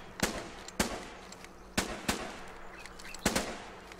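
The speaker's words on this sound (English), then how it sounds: "Oh, a grenade." Sharp explosive bangs in the video game Foxhole, five distinct loud blasts spaced irregularly over a few seconds, with a low background hum between them.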